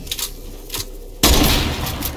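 Gunfire in the video game Fortnite: a couple of faint muffled shots, then a sudden loud burst of firing that carries on densely to the end.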